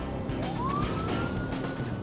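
A police car siren in the video game Ride to Hell: Retribution wails upward in a single rising sweep and holds, heard at moderate distance over a steady low engine and road rumble.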